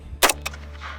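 A single sharp rifle gunshot while plinking outdoors, close and loud, followed by a brief echoing crack and a fading tail.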